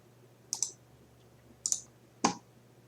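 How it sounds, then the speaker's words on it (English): Computer mouse clicks during a Windows 95 install, four distinct crisp clicks spaced out over quiet room hum, close and with no talk. "Right click on that and click Properties."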